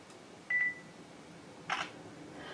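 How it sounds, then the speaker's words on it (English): A single short, high electronic beep from an Asus Eee Pad Transformer Prime tablet camera as it focuses, followed a moment later by a soft click, in a quiet setting. "It beeps and turns green when it's focusing."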